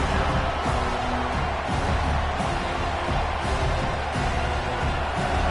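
A packed stadium crowd at a college football game roars in a dense, sustained wall of noise, loud and continuous with no breaks and no clear voices standing out.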